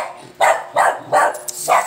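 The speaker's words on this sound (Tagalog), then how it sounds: "Yan, ang cute ng aso." A dog barks four times in steady succession, each bark short, sharp and close, with brief quiet gaps between and no talk over them.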